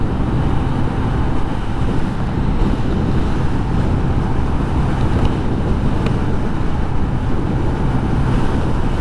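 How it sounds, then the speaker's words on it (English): Strong wind roars and buffets continuously at close range while riding a 2022 Honda NAVI scooter, a loud broadband rush with no pauses and no voices. "It's windy, man. I'm getting blown around."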